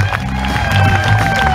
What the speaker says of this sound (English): Big round of applause for all our contestants.